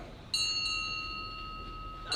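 A single clear ship's bell strike rings out and sustains with a bright metallic tone, fading slowly, with a second strike starting at the very end.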